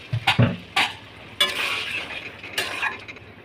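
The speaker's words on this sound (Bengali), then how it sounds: "আলুগুলো ভালো করে নাড়িয়ে নিয়ে" Potatoes being stirred in frying spice paste for a Bengali dhokar dalna, with metal spoon scrapes and clinks against the pan over a soft sizzle, in several short bursts.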